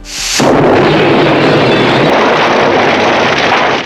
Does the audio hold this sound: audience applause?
no